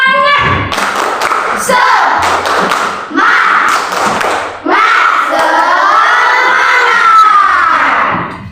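Classroom of schoolchildren performing a rhythmic spirit clap, patterned bursts of claps and thumps alternating with shouted chanting, loud and close, with brief pauses between phrases and a long sustained group shout at the end.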